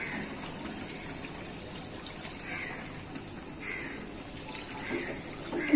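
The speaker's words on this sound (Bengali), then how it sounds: "করলার তরকারি পানি দিয়ে দিলাম।" Water streams steadily into a pan of sautéed potato and bitter gourd curry, a soft continuous gushing that stays even throughout with no talking.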